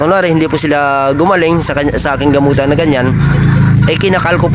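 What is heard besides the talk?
No distinct noise like a dog, phone or traffic.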